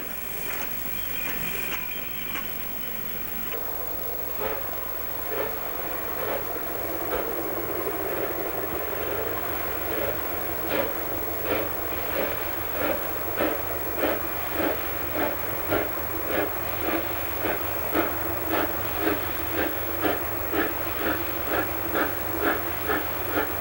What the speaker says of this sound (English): The northbound Southern Highlands Express arrives at Campbelltown in 1962,